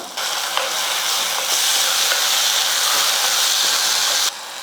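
Chopped onions and tomatoes sauté in a pan with a steady, close broadband sizzle and occasional stirring, cutting off abruptly near the end.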